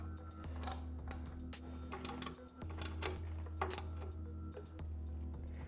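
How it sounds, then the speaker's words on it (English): Four bolts being tightened on a Tusk Quiet Glide ADV skid plate fitted to a Honda Transalp XL750, heard as bursts of quick, close mechanical clicks over a steady low hum. "we're going to tighten the 4 bolts that we installed into the skid plate"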